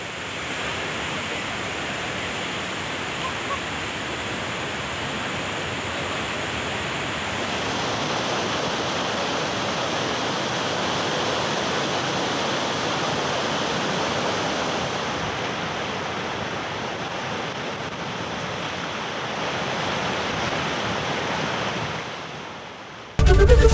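Water roars out through six open gates of the Pujaritola dam in Gondia, discharging about 10,832 cusecs. A dense, steady rush of broadband noise holds at a constant loud level throughout and then cuts off abruptly at the end, with no voices.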